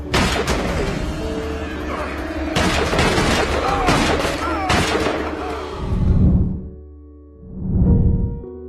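Loud bursts of rapid gunfire crackle close by, followed by two deep, booming blasts with a short pause between them.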